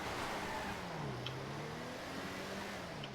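A heavily modified car in GTA 5, with all the tuning done inside the engine and nothing changed outside, drones loudly and steadily throughout, its pitch rising slowly as it revs.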